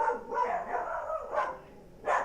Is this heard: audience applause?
no